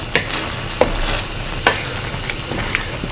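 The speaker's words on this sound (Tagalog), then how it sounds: "Haluin lang natin uli ito." A spatula stirs ginisang upo, bottle gourd sautéed with sardines and seasoned with fish sauce and ground black pepper, in a pan. Sharp scrapes and clacks repeat at an irregular pace over a steady low sizzle, close and fairly loud, with no talking.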